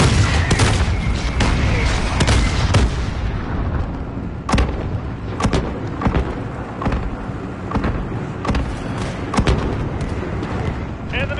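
Incoming mortar rounds explode in a military video game, a series of heavy booming blasts and rumbling impacts, loud at first then spaced out, with a voice shouting briefly over the barrage.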